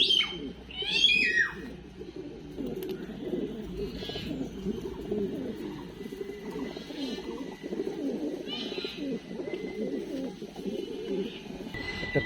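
Line-bred pigeons, including racing birds, coo in a low steady murmur throughout, with a few brighter bird calls above; a voice is faintly heard.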